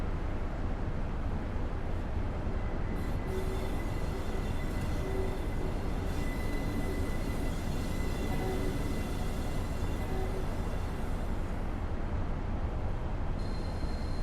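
A train in Train Simulator 2016 on the Norwich to Great Yarmouth via Reedham route rolls steadily as the brakes ease it to a stop, with a continuous low rumble and faint intermittent squeal tones, close and constant throughout.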